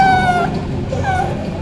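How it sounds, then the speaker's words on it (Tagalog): Two close, clear meows follow one another, the first drawn out and the second shorter and rising. "Meow, meow!"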